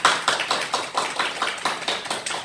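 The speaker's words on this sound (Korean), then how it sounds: "박수를 한번 쳐주세요" A church congregation at a Sunday afternoon service claps in unison, a close, even beat of sharp claps repeating about four times a second without pause.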